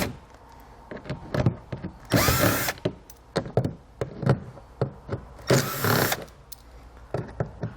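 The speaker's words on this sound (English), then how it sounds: "we're going to have 4 T15 screws that we're going to take out" A power driver spins out four T15 screws from the front edge of a wheel well liner on a 2017 Buick, during base plate kit installation. Short whirring bursts come in quick succession, two of them longer and louder, close up with no talk.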